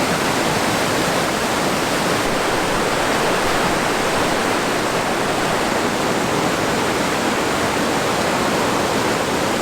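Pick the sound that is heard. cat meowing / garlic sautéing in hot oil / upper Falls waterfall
upper Falls waterfall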